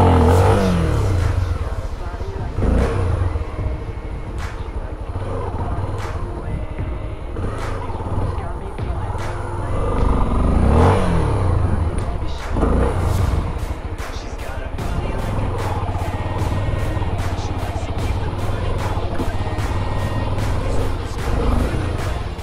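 Honda XRE 300 motorcycle engine revving hard for a straight wheelie at a skate park, loud, rising and falling, with people talking over it.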